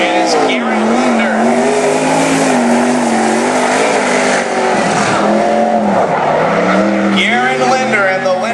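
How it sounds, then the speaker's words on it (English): Race car engine from the number 22 car, a Linder Racing Engines triple-length chassis running without its wing during qualifying on the Cottage Grove track, a loud steady drone with shifting pitch throughout, with an announcer talking over it. "Taking the track of the number 22 car from Central Point."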